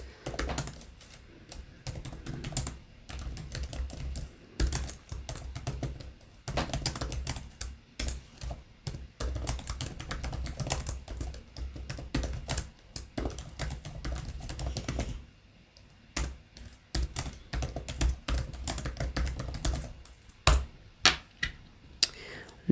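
Computer keyboard typing as a comment is written during a live stream, steady bursts of clicking keystrokes running for over twenty seconds, with brief pauses and a louder flurry of taps near the end.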